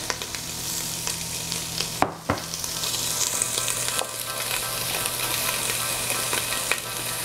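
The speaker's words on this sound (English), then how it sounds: "put into a medium high heat saute pan, let the fat render" Fat renders in a saute pan over medium-high heat, giving a constant bright sizzle and crackle, close and steady, with a brief knock of the pan near the start.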